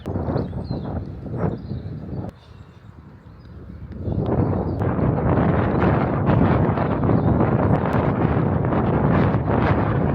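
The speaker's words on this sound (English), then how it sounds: "why is it always so windy when I come to do a track session?" Strong wind buffets the microphone at an outdoor running track, a steady roaring rush that eases briefly then returns louder and sustained, with no voices.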